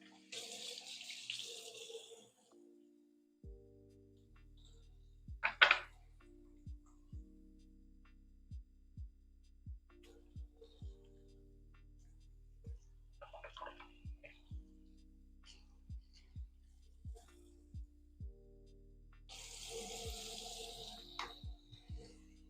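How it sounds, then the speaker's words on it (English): A bathroom tap runs while hands are washed at the sink, a soft steady rush near the start and again at the end, with quiet clicks and small knocks in between. "But we're about to wash our hands first."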